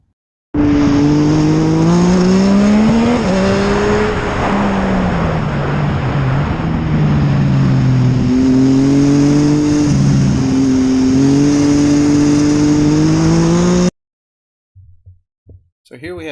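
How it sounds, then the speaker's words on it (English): A 3-cylinder engine in an MGB-09 build car pulls hard through six gears with no-lift shifts, a loud buzzing drone that climbs in pitch, dips briefly at each shift, then cuts off abruptly near the end. "That 3-cylinder is one of my favorite sounding engines."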